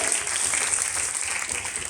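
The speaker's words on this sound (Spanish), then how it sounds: "pido un aplauso para todas las autoridades de gobernación" Steady audience applause at a government civic event on participatory democracy and anti-corruption, dense continuous clapping from a room of people throughout, fairly close and even in level.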